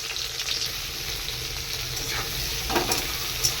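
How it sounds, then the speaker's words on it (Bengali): Onions frying with cumin seeds in hot oil in a pan, a steady close sizzle with a couple of sharper crackles and light stirring scrapes. "জিরে ফোড়ন দিয়েছি, এবার পেঁয়াজগুলো দিয়ে দেবো।"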